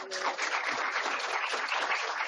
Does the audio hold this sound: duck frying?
no